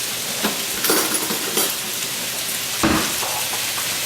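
Spicy Asian chicken sizzles in a pan, a constant crackling fry with a few louder stirring scrapes and spatters, close up and with no speech.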